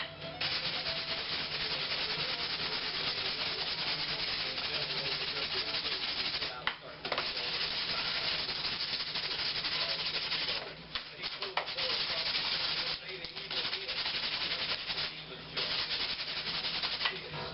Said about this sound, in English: I'm ready to sand